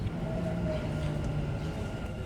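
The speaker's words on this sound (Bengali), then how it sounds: "তো ট্রেনের মধ্যে উঠে বসলাম" Riding inside a Dubai Metro train produces a steady low rumble with a faint tonal whine, constant and moderately loud. There are no voices.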